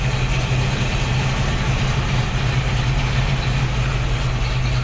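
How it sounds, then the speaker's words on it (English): A 1960 Chevrolet Corvette Convertible engine idles smoothly and steadily, a constant low hum with no knocking or misfires, recorded close up with no voices. "Engine purrs as it should."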